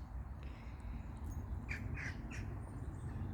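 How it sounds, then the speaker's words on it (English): Birds call outdoors on a warm winter day, a few faint squawking chirps rising around the middle and end over a steady background hum, with no talking. "I can hear you chirping"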